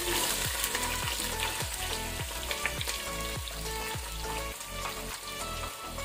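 Three large chopped onions fry over a medium-to-high flame for ghee rice, giving a steady, close sizzle with repeated scraping stir strokes and no talk.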